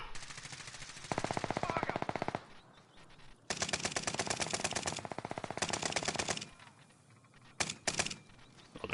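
Gunfire in Call of Duty: Warzone rattles out in long automatic bursts of rapid, loud shots separated by short pauses, with a final few quick bursts near the end.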